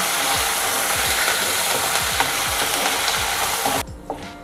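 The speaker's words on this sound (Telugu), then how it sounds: "పల్లీలు పప్పులు కొంత వేగిన తర్వాత దీంట్లోకి మనం ఎండుమిర్చి, కాజు, కరివేపాకు వేసి పప్పులు ఎర్రగా అయ్యేంత వరకు వేయిద్దాం" Peanuts, dal, dried red chillies, cashews and curry leaves fry in hot oil with a steady loud sizzle, a spoon stirring and scraping the pan in repeated strokes, then the sizzle drops away near the end; no talk.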